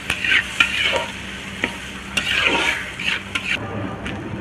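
Sliced onions fry in a pan for an Odisha-style dry fish fry, giving a steady sizzle broken by repeated stirring scrapes, with no talking.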